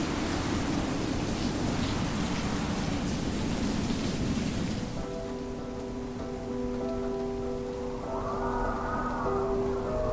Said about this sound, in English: the storm picked up, wind rattling the windows and rain splattering against the porch